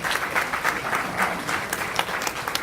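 An audience claps through a forum on racial inequities, with moderate, steady applause that pulses slightly in intensity and has no speech over it.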